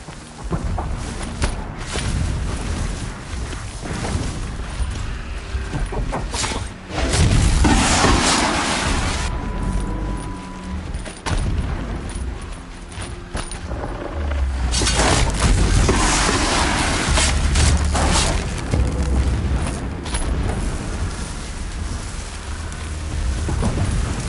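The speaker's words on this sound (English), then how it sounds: "explosions in the distance." Distant explosions in the video game Horizon Zero Dawn roll in as deep, muffled booms, with heavier swells around seven and fifteen seconds over a constant rain-like hiss.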